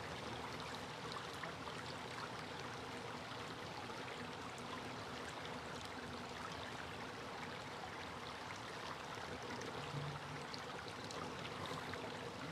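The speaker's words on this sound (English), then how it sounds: "Just pause and listen to the water for a second." Water in a stream flows as a steady, even rush that continues unbroken, fairly faint, with no voices.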